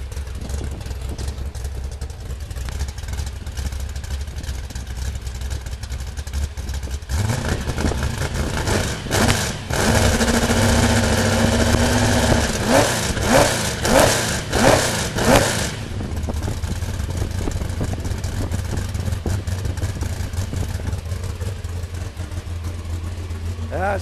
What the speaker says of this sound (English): Here, let me let you listen to the cam again.